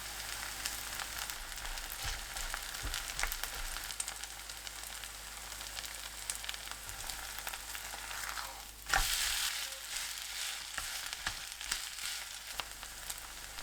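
A napa cabbage pancake topped with smoked duck fries in oil over medium-low heat, a steady close crackling sizzle with one brief louder burst partway through and no talking.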